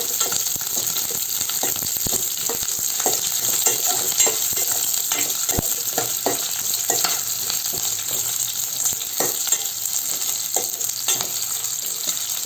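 Onion sautés in a pan for baby corn Manchurian, a steady close sizzle broken by scraping and stirring clicks of a spatula throughout, with no voices.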